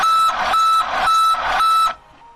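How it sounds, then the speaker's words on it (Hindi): Repeated electronic warning beeps from a vehicle instrument cluster signalling urgent DPF regeneration, three loud sustained tone bursts in quick succession with short gaps, then a faint fading tail. "बीप की आवाज भी बहुत कम अंतराल पर सुनाई देगी"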